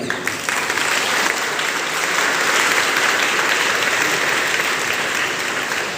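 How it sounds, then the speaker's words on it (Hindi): Loud, dense applause from an audience at a school honouring ceremony for Kiddies Corner School students, steady and sustained for several seconds. "इसके लिए इस संस्था के लिए जोरदार तालियां।"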